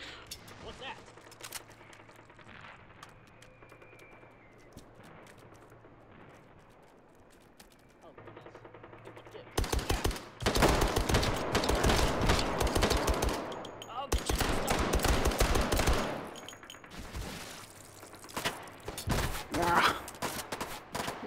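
Loud bursts of automatic gunfire in the VR shooter Hot Dogs, Horseshoes & Hand Grenades on a World War II custom map, played on HTC Vive, come in long dense volleys after a quieter stretch, with a voice talking in between.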